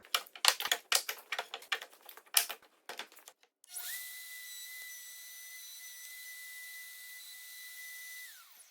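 A Festool OF 2200 router cuts a mortise in wood: a run of sharp clattering knocks, then a steady high-pitched whine holds for about five seconds before it cuts off.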